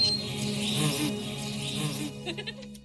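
Bird song layered with buzzing bees as sound effects in an AI-generated film: a dense, steady insect drone with bright chirping above, fading toward the end where a few short chirps stand out.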